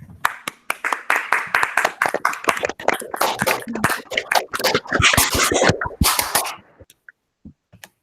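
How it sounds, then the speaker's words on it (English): A small crowd at an Honor Society induction ceremony claps steadily for several seconds, the applause thinning into a few scattered last claps before fading out. "please join me in applauding all of our new Honor Society members."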